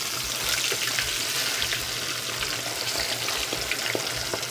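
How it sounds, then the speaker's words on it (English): Brook trout sizzling in a pan on moderate heat, a steady broad crackle and hiss with faint pops and a low hum beneath, continuous and fairly close throughout. "Crispy fried brook trout."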